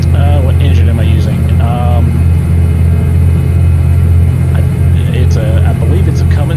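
A Cummins truck engine in Euro Truck Simulator 2 runs with a steady, loud low drone throughout, while someone talks over it.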